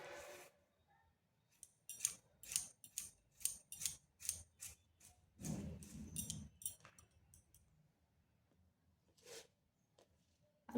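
A knife cuts potato into small pieces on a board, giving a run of sharp, close chopping clicks in uneven bursts with quiet gaps, a duller scrape in the middle and a few final taps.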